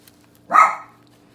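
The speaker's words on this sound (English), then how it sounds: "I'm gonna have to hurry because my dog's gonna start barking." A single dog bark sounds close and loud indoors, a short sharp woof that fades within a fraction of a second against a quiet background.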